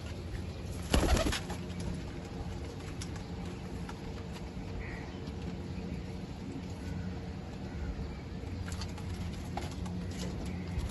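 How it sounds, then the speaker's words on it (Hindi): Soft pigeon coos and fluttering in a steady background hum, with a brief louder rustle or flap near the start. "ये 6वां कबूतर"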